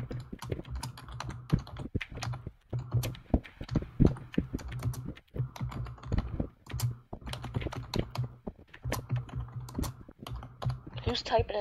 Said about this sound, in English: Who's typing an essay?